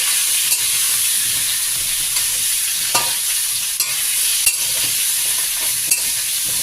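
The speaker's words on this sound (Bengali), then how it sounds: "একটু লঙ্কার গুঁড়ো দিয়ে আগে এগুলো ভেজে নেব।" Drumstick, potato, eggplant and pumpkin frying with salt, turmeric and chili powder: a loud, steady close hiss of oil with a few sharp stirring clicks scattered throughout and no talking.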